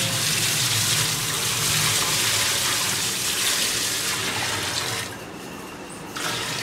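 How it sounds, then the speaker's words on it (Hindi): Ten litres of water pour in a steady, loud gush to start a chemical sheet formulation. The flow runs strongly for about five seconds, dips briefly, then resumes. "तो सबसे पहले हम पानी डाल रहे हैं,"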